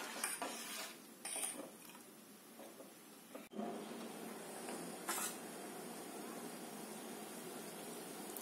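A metal spoon stirs a simmering vasaka leaf decoction in a pot, with a few scattered scrapes and knocks against the vessel over a constant soft bubbling hiss.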